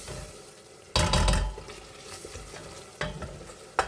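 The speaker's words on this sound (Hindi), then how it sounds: "यहाँ पर हम जी अच्छे तरीके से भून लेते हैं।" Rice with pulao masala frying and being stirred in a pot. Sharp bursts of scraping and sizzling come near the start and again later, with a softer hiss between them and no talk.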